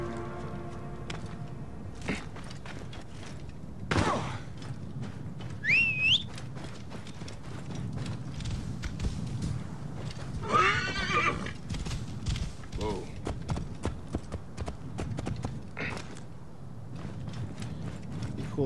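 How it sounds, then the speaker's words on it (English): In the Assassin's Creed Origins video game, a horse's hooves clip-clop steadily while it neighs and whinnies a couple of times, with game mechanism clicks and a busy background around the footsteps. "cool if I could try to ride the horse up the pyramid"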